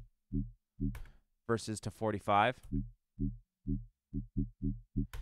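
A Serum synthesizer FM bass with its LFO adjusted plays short, evenly spaced low pulses. A voice briefly talks over the middle of the pattern.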